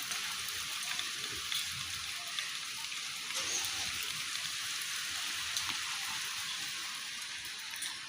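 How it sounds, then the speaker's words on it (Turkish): Steady rain falling, a continuous soft hiss of drops pattering on surfaces, with no voices and no breaks. "Bereket yağıyor mübarek. Güzel yağıyor."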